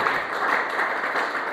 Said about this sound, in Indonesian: Beri tepuk tangan terbaik buat itu.